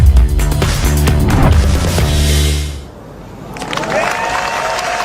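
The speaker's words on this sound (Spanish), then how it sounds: "Aplausos y gritos que reflejan la emoción del público en Japón con la consagración del golfista colombiano Nicolás Echavarría" A large crowd at a golf tournament in Japan applauds and cheers loudly for the winning Colombian golfer Nicolás Echavarría, a dense roar that cuts off abruptly partway through, leaving quieter scattered sounds.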